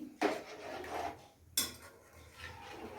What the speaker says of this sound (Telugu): ముక్కల్ని వేసేసుకొని కొంచెం విరగకుండా జాగ్రత్తగా కలుపుకోవాలి.